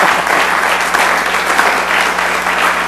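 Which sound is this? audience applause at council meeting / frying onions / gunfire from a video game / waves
audience applause at council meeting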